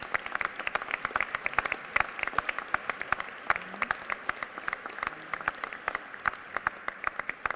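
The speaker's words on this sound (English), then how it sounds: "Let's give you a round of applause." Banquet audience clapping at an NAACP Freedom Fund dinner in Dayton: crisp, individually audible claps in an uneven patter, fairly faint and distant in a large hall, with no speech.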